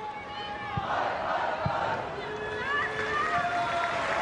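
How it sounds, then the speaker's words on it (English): Sell-out stadium crowd at a women's football match at the Academy Stadium, a steady wash of massed voices with scattered shouts and rising cheers, while a voice talks over it. "Sell out crowd at the Academy Stadium."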